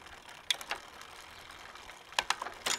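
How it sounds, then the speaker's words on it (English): Small clicks and ratcheting ticks sound as a tool turns the tension screw on a bicycle's rear derailleur, a few sharp bursts separated by quiet, close and fairly faint. "we need to turn the screw counterclockwise to rise up the tension"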